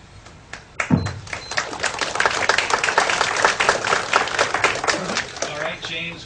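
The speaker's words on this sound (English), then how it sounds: "We don't need to applaud after each time" Audience applause at a religious debate, a thump and a few scattered claps swelling into a dense, moderately loud round of clapping that then fades, with faint voices near the end.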